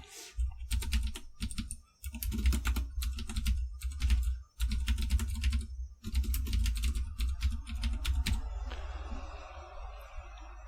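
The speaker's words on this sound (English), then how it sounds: "I can simply go to the CSS file and type something like this." Rapid typing on a computer keyboard while entering CSS code, dense bursts of clicking keystrokes with a few short pauses, close and fairly loud, no voice.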